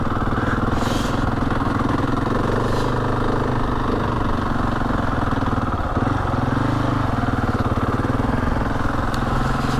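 Husqvarna 701 Enduro single-cylinder motorcycle engine on a winter ride over a mountain pass, a steady loud throbbing drone with wind rush throughout, no talk.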